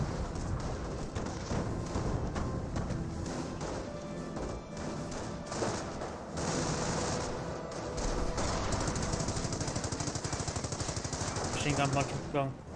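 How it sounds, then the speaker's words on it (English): Sustained automatic gunfire from a machine gun bunker in the Company of Heroes strategy game, dense and continuous across the whole stretch, mixed with other battle noise and a voice talking over it. "Machine gun bunker does get a bit of fire there."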